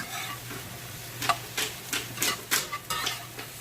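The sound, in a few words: mushrooms sautéing in a pan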